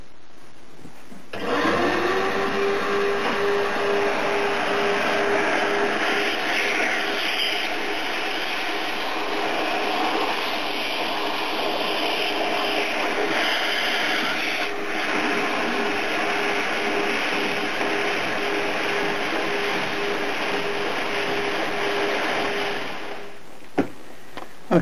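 A Hoover vacuum cleaner sweeps soot from a boiler flue through an extension pushed up the nose cone. The motor starts with a whine, roars loud and steady for over twenty seconds, then cuts off.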